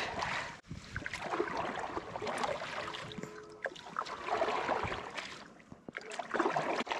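A wooden paddle churns and splashes through the water of Begnas Lake in Nepal, with steady strokes, close trickles and drips, and a few brief pauses between pulls.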